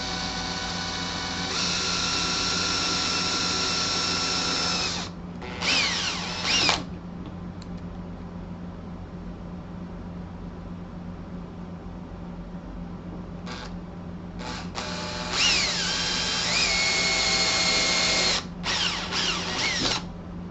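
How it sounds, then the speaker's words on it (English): A drill press bores into wood for a segmented jig, whining loudly in two long bursts of several seconds each, separated by a steady low motor hum while the bit is idle. "it's easier to do on your drill press"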